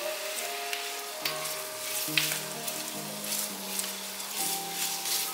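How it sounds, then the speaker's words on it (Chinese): Shiitake mushrooms stir-frying in a wok, a steady close sizzle and crackle with a few scraping stirs of the spatula, no voices. "把香菇放进来煸香， 大约炒了2分钟"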